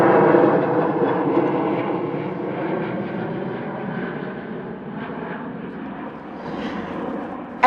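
A fixed-wing airplane passes overhead as a broad, rumbling engine roar, loud at first and slowly fading, with no voices.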